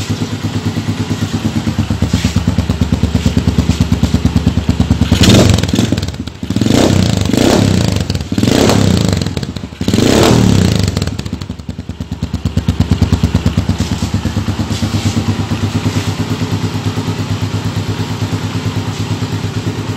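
A motorcycle engine fitted with an Apido ignition coil idles with a rapid, rough putter, revved several times in loud bursts midway before settling back to a steady close idle.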